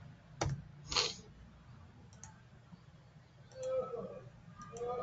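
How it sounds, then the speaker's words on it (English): Computer keyboard keys pressed in a quiet office setting: a couple of sharp isolated clicks early, then softer scattered taps and light clatter later, close-miked and with no speech. "Enter in keyboard."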